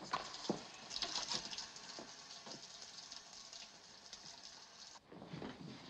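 Water runs from a tap into a glass, a faint, steady trickle with a few soft splashes and clinks.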